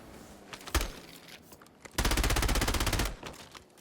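Rapid automatic gunfire in the Call of Duty: Warzone video game, a short burst followed by a longer sustained rattling volley, loud and close with little else around it.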